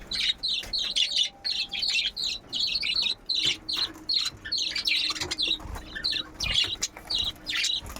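A group of pet budgies and cockatiels chirping close by in quick, overlapping bursts of bright tweets and chatter, with brief pauses and no let-up across the whole stretch.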